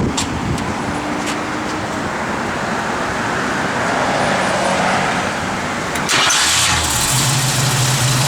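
Engine of a 1971 Ford Mustang Mach 1 with a freshly redone engine and a mild cam, running at a steady rumbling idle nearby, then a louder revving surge toward the end.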